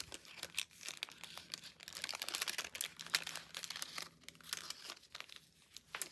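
Thin glassine paper envelope being handled up close, giving a run of soft crinkling and rustling with brief crisp tearing-like crackles, alone and fairly quiet.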